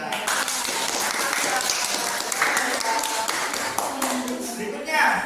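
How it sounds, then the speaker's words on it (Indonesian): Classroom clapping for a student named Arya, a patter of children's hands with voices chattering over it throughout. "Tepuk tangan untuk"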